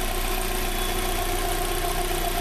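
A Fiat Idea 1.4 8v Fire engine idles smoothly in a workshop with a new air filter, a steady, even, close-up hum with no talk.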